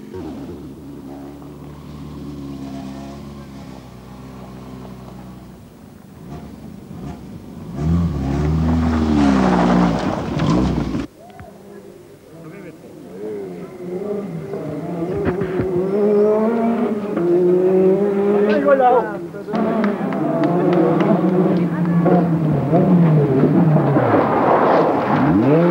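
A Ferrari rally car races through hairpin bends on the 1982 Tour de Corse, its engine rising and falling in loud revving bursts as it brakes, shifts and accelerates, passing close with sudden cuts between passes.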